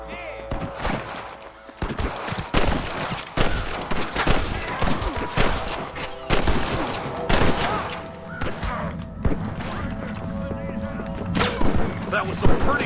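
A chaotic gunfight in Red Dead Redemption (2010, Xbox 360): irregular volleys of rifle and pistol shots crack near and far over a busy, echoing background, with voices talking between bursts.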